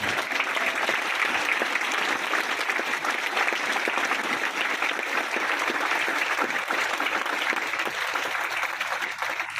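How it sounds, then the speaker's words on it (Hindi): A standing audience claps steadily for two honored personalities at a business marketing event, a dense, even wash of many hands sustained for nearly ten seconds with no voices over it. "प्लीज अपनी जगह पे खड़े होकर इन दोनों पर्सनालिटी के लिए तालियां बजा दीजिए"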